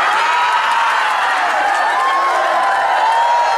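A large audience at a religious gathering claps and cheers together, forming a loud, dense, continuous roar of hands and voices that holds steady from start to finish.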